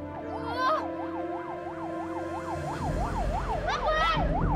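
A loud wailing ambulance siren sweeps up and down in regular cycles, close by, over engine rumble and brief bursts of other noise.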